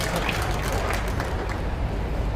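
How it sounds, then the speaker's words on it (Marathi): Dense crowd applause at a Maharashtra political rally for Chief Minister Devendra Fadnavis, a steady broadband wash of clapping filling the whole stretch, loud and continuous with no clear pauses. "पुन्हा टाळ्या वाजवायचे ते का"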